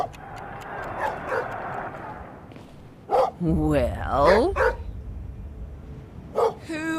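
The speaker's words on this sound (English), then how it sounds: "Who are you barking at over there?" A dog barks several times in the video game Schoolboy Runaway, sharp yips and woofs in short bursts, with a character's voice speaking between them.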